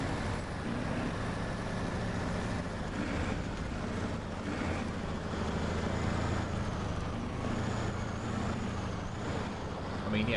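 The engine of a modded truck in the SnowRunner video game drones on as a steady, heavy rumble throughout, with faint air-brake hisses and no speech over it.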